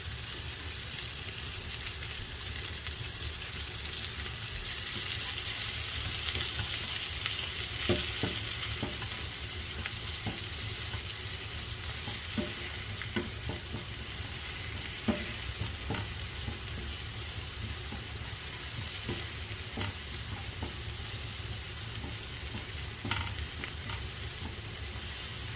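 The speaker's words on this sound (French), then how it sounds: "Alors j'ai utilisé un beurre au baie et au poivre. J'y dépose mes lamelles d'oignon" Sliced onions sizzle and fry in berry-and-pepper butter in a pan, a loud, steady crackling hiss broken by occasional scrapes as they are stirred.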